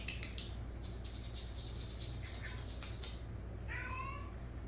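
A cat meows a few times against steady low background noise, the calls moderately close and not very loud.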